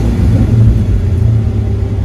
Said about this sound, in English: give it the first start right now, hear how it sounds with these Flowmaster mufflers